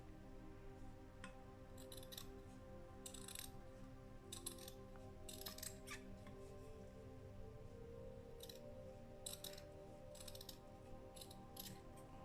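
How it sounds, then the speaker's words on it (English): Repeated crisp snips of scissors trimming the edge of cured resin, in irregular bursts close by over a quiet mechanical background. "hold my scissors on a bit of an angle"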